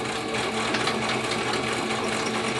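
A sewing machine runs steadily while back stitching a seam, giving a continuous loud whirring and rapid needle clatter with no pauses.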